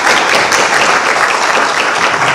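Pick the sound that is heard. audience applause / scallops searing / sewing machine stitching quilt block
audience applause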